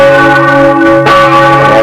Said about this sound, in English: big copper brass bells